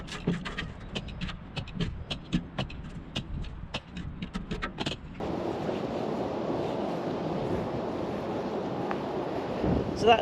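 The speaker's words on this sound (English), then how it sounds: "It's very windy." Wind rushes around an outdoor spot in Buxton during a Christmas clean-up, a steady broadband blustering that sets in halfway through after a run of sharp taps.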